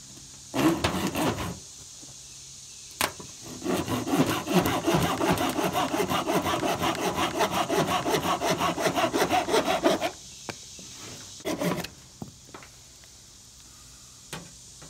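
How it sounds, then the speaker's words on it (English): A Corona hand saw cuts through a stick of resinous fatwood outdoors, with a few starting strokes followed by a long run of steady rhythmic rasping, close and clear, then scattered handling noises and no talk. "Using my Corona saw, I've already got fatwood stuck in the teeth."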